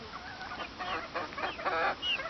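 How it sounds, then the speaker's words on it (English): Domestic geese and chickens at bedtime, honking and clucking in a busy, overlapping chorus of repeated calls close by, with no talking. "It's bedtime and my birds are terrified to go to bed."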